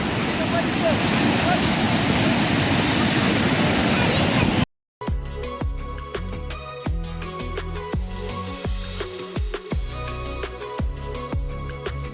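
Water of the Kusgaon waterfall near Mahad in Konkan rushing down its second tier, a steady loud roar for about four seconds, then after a brief cut a busier, clattering close-up flow with sharper splashes and knocks.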